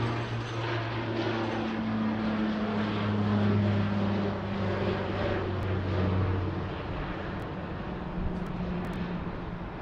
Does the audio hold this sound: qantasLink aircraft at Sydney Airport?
yes